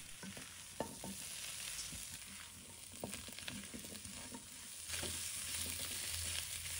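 Pork ribs stir-fried with pickled cabbage and taro in a wok, a continuous soft sizzle broken by repeated scraping and tossing strokes of the spatula, close but fairly quiet.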